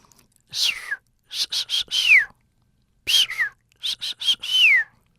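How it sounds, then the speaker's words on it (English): A dolphin gives its signature whistle in several clear, high chirping bursts with falling sweeps, separated by brief silences. "each dolphin seems to have its own kind of signature whistle"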